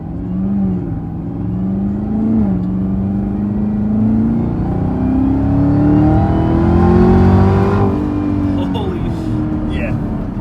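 A 2019 Chevrolet Camaro ZL1 with a 10-speed automatic accelerates, its engine note climbing in smooth steps through quick, barely noticeable shifts, loud and continuous beneath a voice talking.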